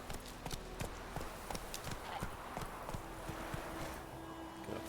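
Horse hooves clip-clopping in The Witcher 3: Wild Hunt, a quick regular trot of sharp hoof strikes close by over a soft background wash, with no speech.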